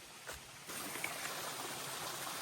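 Mountain stream beside a trail shelter on the way to Mount Cube, a steady broadband rush of flowing water that swells after a brief quieter opening and stays constant throughout.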